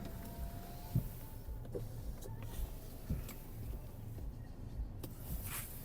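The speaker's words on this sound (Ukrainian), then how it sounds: "Склопідйомники працюють." A Skoda Octavia vRS's electric power windows whir in short motor runs, several brief pulses with small clicks in a quiet car interior.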